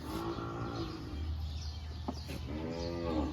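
Cattle at a cattle farm in Agoncillo, Batangas, Philippines low repeatedly, deep drawn-out moos with rising harmonics, fairly close over a steady outdoor background hum; no talking.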